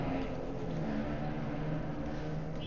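A loud truck passes outside with a steady, low engine rumble and whir that stays fairly constant for a few seconds, heard on its own without voices.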